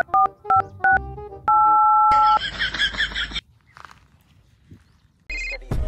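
Phone keypad dialing: a rapid series of short electronic tones, then a steady held tone and a brief ringback burst, fairly loud and near, with a few faint shuffling sounds between and no talk.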